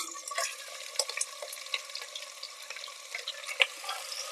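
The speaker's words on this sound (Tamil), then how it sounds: "இந்த வெங்காயம் லைட்டாக ப்ரௌன் கலர் ஆகணும் அது வரைக்கும் நல்லா இந்த எண்ணெயிலே வதக்கிக்கோங்க" Steady crackling sizzle of sliced onions frying in hot oil for chicken biryani, with occasional stirring scrapes and pops, close and continuous with no talking.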